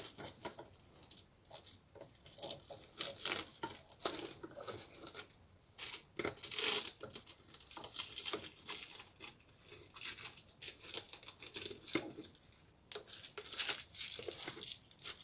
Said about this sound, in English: And then you can cut off the edges if you want. I just cut off a little of the edges.